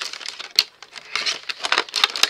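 Close crinkling and crackling of plastic packaging with sharp snips and tearing bursts in quick, irregular succession.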